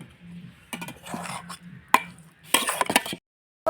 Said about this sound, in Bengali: বন্ধুরা এবার আমি মশলাটা ভালোভাবে কষিয়ে নিই